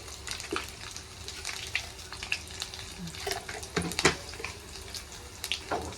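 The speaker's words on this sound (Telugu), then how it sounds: "ఆయిల్ వేడెక్కింది ఆవాలు వేసాను" Mustard seeds crackle and pop in hot oil for tempering, scattered sharp pops over a faint, quiet sizzle.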